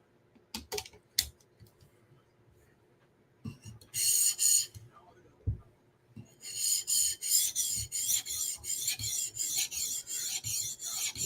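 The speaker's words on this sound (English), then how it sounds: "Now we're going to switch to our 400 grit stone." A knife blade rasps back and forth across a 400 grit sharpening stone for a satin edge, with a few brief strokes followed by a steady run of rhythmic close scraping strokes.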